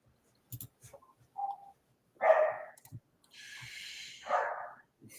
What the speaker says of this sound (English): All they do is bark.